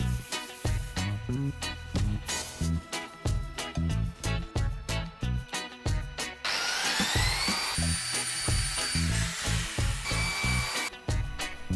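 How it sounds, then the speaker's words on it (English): A power sander and polisher work an epoxy resin surface on a desk build, giving a steady close grinding whir with rising whines over rhythmic background music. "I sanded and polished the epoxy to a mirror shine."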